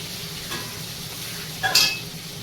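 Mutton cooking in a home kitchen pan, with a steady low sizzle and occasional stirring scrapes, one louder burst of frying near the end, no talking.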